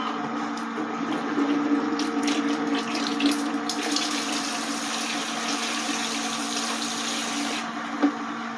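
A sump pump pushes water through a Rinnai RL75i tankless water heater during a flush, giving a steady, even rush of flowing water with a low hum underneath and one small knock near the end.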